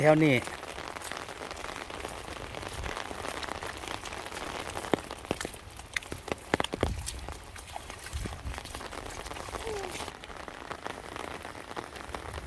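Midday rain falls over rice fields, a steady hissing patter with scattered louder drops striking nearby surfaces, and a voice is briefly heard at the start.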